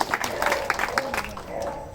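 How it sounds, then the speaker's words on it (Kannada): An audience at a spiritual discourse event claps in uneven bursts, individual hand claps standing out against a moderate crowd background, with a voice speaking underneath. "ನೀವೆಲ್ಲ ಸರಿ ಜೋರಾಗಿ ಚಪ್ಪಾಳೆ ತಟ್ಟಿ ನೋಡೋಣ"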